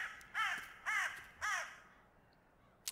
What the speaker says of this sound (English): So many birds, man.